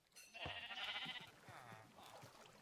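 Sheep bleat twice in a video game sheep farm, one long wavering cry followed by a shorter one, fairly close, with small game clicks and thumps around them.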